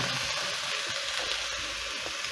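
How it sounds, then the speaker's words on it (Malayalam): Red lovi-lovi fruit pickle sizzles steadily in a hot pan, a continuous close frying hiss with faint stirring underneath and no voices. "അത് നമുക്കൊന്ന് ഇളക്കി ചേർക്കാം"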